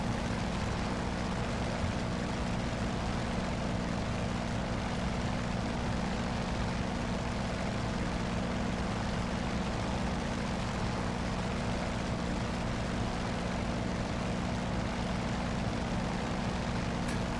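A propeller plane roars as it takes off in the flight game Aces of the Pacific, its engine drone loud, steady and unbroken from start to finish, with no speech.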